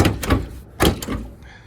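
A few close, heavy thunks from the hood of a Chevy 454 SS pickup truck closing, clustered in under two seconds and fairly loud.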